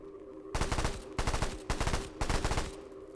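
Auto pistol with lowered recoil fired in the video game Sulfer: four close, loud bursts of rapid automatic shots separated by short pauses, with no talking.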